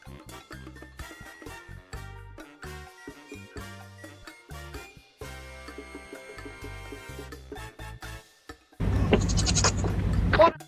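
Loud, harsh goat bleats come in the final seconds, following a stretch of busy, rhythmic music with a chiming melodic line.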